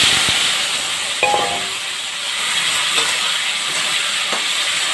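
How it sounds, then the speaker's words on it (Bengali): Potatoes frying in hot oil in a pan for a Bengali cauliflower, potato and pea dish, a steady close sizzling hiss with a few small pops and clinks. "এখন আমি এখানে প্রথম আলুগুলোকে ভেজে নেব।"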